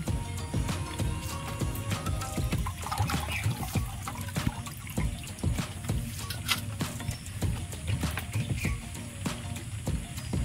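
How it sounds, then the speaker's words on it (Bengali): Washed jackfruit seeds being squeezed out by hand, with a steady patter of wet squishing and dripping water, close up and fairly faint, with no voices. "এবার আমি নিগড়ে নিগড়ে তুলে নেব"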